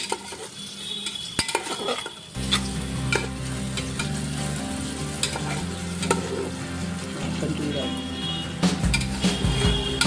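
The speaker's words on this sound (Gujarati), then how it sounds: "તેલમાં આને કમ્પ્લીટ ફ્રાય થઈ જવા દેવાનું છે" Chickpeas fry in hot oil in a pan, a steady sizzle broken by the scrape and clink of a spoon stirring against the metal, close and continuous with a voice speaking faintly at times.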